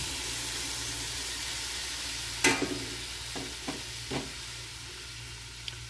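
A leftover masala snack roasts in a pan with a soft, steady sizzle, broken by a few short stirring scrapes from a spoon, close and fairly quiet with no talking.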